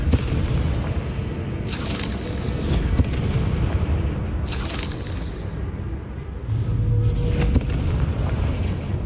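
Confringo fire-spell blasts in the Hogwarts Legacy video game, several booming explosions in bursts over a steady rumbling background, loud and close, with no talking.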